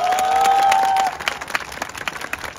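Audience applause and cheering from a crowd at an outdoor village weekend event in Wójcin, loud and sustained at first with a steady tone over it, then thinning into scattered claps.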